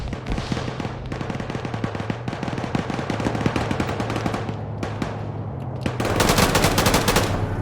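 Heavy sustained automatic gunfire from an Arma 3 convoy battle, with dense rapid bursts of rifle and machine-gun shots near and far and a louder barrage near the end.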